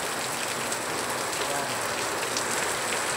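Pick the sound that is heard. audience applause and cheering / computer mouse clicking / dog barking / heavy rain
heavy rain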